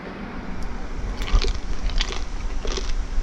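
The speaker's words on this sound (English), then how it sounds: "Hear that crunch?" Crunchy skin of a spatchcock chicken smoked on a Traeger pellet grill being bitten, several close, crisp crunches followed by chewing, loud and near.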